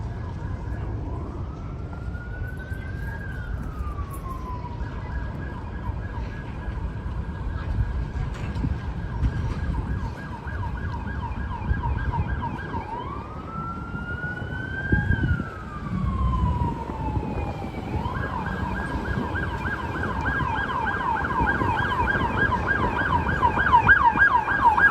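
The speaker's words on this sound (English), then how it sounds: "It's a police car that's unmarked." An unmarked police car wails through New York City, its siren sweeping up and down in repeated whooping cycles over steady traffic rumble, fairly close and rising slightly toward the end.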